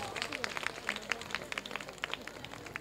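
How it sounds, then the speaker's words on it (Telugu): Audience at a church Christmas play put on by the Legion of Mary claps for a boy costumed as Peter, a steady patter of many hands continuing under a faint murmur of voices. "పునీత్ ఆంతోని వారుగా తయారైనటువంటి పీటర్కి గట్టిగా చప్పట్లు కొట్టి"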